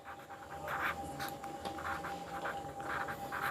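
Writing on a board with chalk, close and clear, as a count of bricks is noted: short scratchy strokes in an uneven rhythm of quick bursts, over a steady low background hum.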